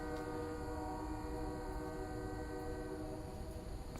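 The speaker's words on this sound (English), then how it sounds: "maybe there will be more trains." A passing train sounds a long, steady horn blast over the low rumble of rolling cars. The sound is fairly distant and faint overall, and no one talks.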